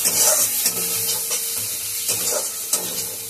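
Spice paste fries and gets stirred in a pan, giving a steady close sizzle with repeated scraping strokes and no voices.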